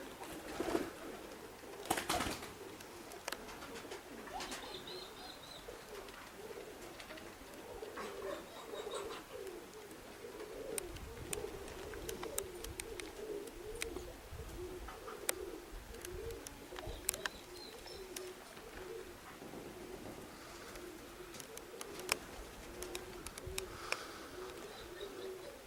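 Modoc High Mountain Zipper pigeons coo softly outdoors in winter mountain air, low repeated calls scattered over steady faint background noise with occasional sharp clicks, and no voices.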